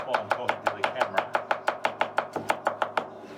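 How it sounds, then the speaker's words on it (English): A knife chops fresh garlic on a board at a remote campsite, about twenty quick, evenly spaced sharp taps in a steady rhythm, close and clear with no talk. "Let's just see how close I can get to chopping this while I'm talking to the camera."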